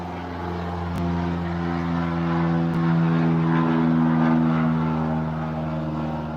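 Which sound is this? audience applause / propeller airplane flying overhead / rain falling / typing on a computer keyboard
propeller airplane flying overhead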